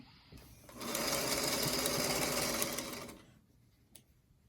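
A sewing machine runs a quilt block seam in one continuous burst of rapid, even stitching, close and fairly loud, starting and stopping cleanly with quiet room sound on either side.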